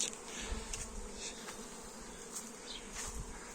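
Honeybees fly around a hive near a field, making a dense, continuous buzz of many insects close by, with individual bees droning past at times.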